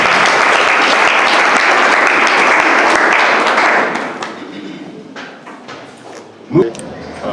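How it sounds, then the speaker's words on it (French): Students applaud themselves at a university ceremony: a loud, dense burst of clapping that thins out and fades after a few seconds, leaving a quieter room with a single thump. "Applaudissez pour vous-même."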